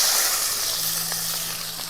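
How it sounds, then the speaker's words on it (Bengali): A steady hot-oil sizzle and hiss fills the short clip, close and moderately loud, as chopped onions fry in a kadai after cumin and dried red chillies, with no one speaking. "তেল গরম হয়ে গেছে, এবার আমি ফোড়ন দিয়ে দেবো জিরে আর শুকনো লঙ্কা, এবার দিয়ে দেবো পেঁয়াজ কুচি"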